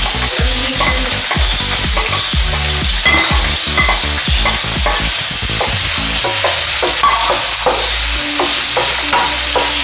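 Chopped onions with ginger, garlic and green chilli fry loudly in a pan for sausage fry, with a steady sizzle broken by repeated scraping stirs that ease off toward the end.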